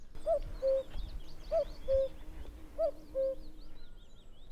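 Common cuckoo calling in scrubby Dartmoor habitat, three clear two-note cu-coo phrases repeated at an even rhythm, moderately distant, over faint birdsong in the background.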